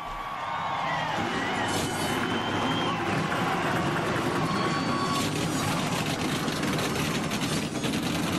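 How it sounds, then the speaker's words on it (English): Race car engines fired up as the cars roll onto the track at Rockingham, a continuous heavy rumble of many engines idling and revving with crowd noise mixed in. "The cars are fired up and they're rolling onto the track."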